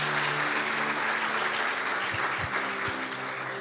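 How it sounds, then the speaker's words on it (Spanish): A church congregation claps during a worship service, a dense sustained round of applause that carries evenly through the short span before easing slightly at the end. "Dale un fuerte aplauso a Él, por favor."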